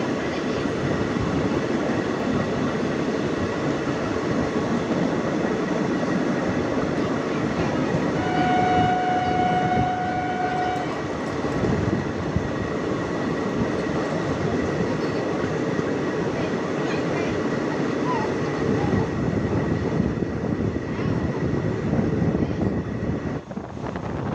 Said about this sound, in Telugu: మన ట్రైన్ ఇప్పుడు జాడుపూడి రైల్వే స్టేషన్ని క్రాస్ చేయబోతుంది